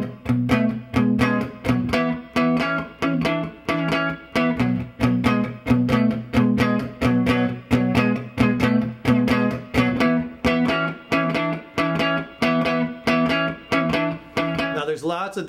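An electric guitar with a slightly distorted tone plays a 12-bar blues rhythm with a fast change, steady strummed chords at a brisk even pulse, loud and close, with no talk.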